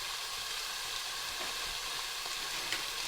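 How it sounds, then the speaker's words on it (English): Beef browns in rendang spice paste in a pan, giving an even, unbroken sizzle close by, with no talking. "So I'm going to let that beef brown"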